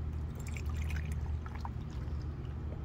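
Hot lavender tea strained off by hand, a steady, soft trickle and pour of liquid running continuously under a low background hum, close and fairly quiet with no talking.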